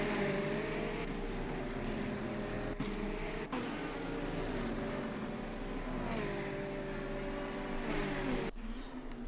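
A pack of Corvette race cars circles the Daytona circuit, their exhaust a steady, droning buzz that swells and fades as the cars pass, loud and continuous with no talk.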